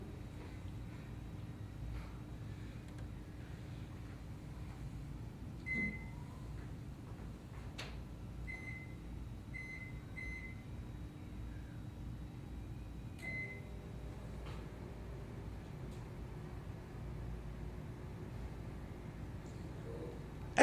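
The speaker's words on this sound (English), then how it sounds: "now places the conventional PCB into the 800-watt microwave" A steady low hum of a running 800-watt microwave oven heating a circuit board fills the quiet, with a few short electronic beeps and clicks partway through.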